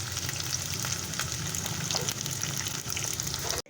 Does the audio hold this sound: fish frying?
yes